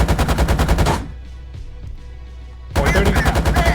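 A BMP-2 autocannon fires at targets in rapid bursts, loud dense shots before and after a short quieter stretch of distant reverberation.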